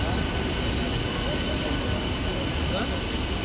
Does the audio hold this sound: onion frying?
no